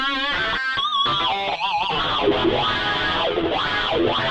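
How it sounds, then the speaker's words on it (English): A guitar plays through a distortion effect on a Line 6 Helix processor, heavily saturated and loud, with choppy chords first and then sweeping, wah-like tonal swells. "So let's go to distortion."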